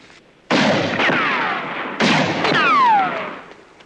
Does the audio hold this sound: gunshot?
yes